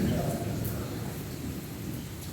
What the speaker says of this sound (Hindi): और आवाज़ है बादलों की